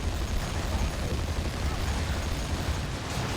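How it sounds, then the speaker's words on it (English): A grenade explosion in Warhammer 40,000: Dawn of War 2, a real-time strategy game, gives a dense, roaring blast rumble that holds steady and loud for several seconds with a broad crackling wash, and no voices are heard. "Nice grenade."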